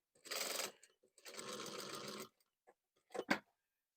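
Two bursts of a domestic sewing machine stitching a basic flap pocket, a short and a longer run, followed by a couple of brief clicks, close and alone with no talking.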